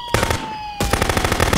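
Rapid automatic gunfire in Contraband Police, the video game, rattles out in loud, close bursts of evenly spaced shots, broken by a brief pause with a lingering tone before the firing resumes.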